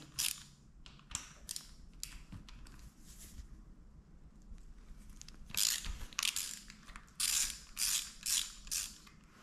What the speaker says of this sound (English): For the lower clamp we need again an Allen key, 6 this time. And again we just have to loosen it.